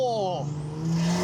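A cheap turbocharged Jeep accelerates hard under boost, its engine note loud, close and rising in pitch over a brief burst.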